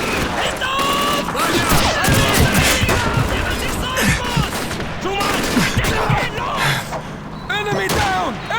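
Dense machine-gun and rifle fire in a World War II battle in the video game Call of Duty 2 at Stalingrad, with continuous loud bursts and shouted voices mixed in throughout.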